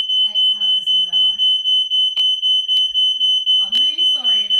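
A home smoke alarm sounds in rapid repeated shrill electronic beeps, loud and close and unbroken throughout, while someone talks underneath it.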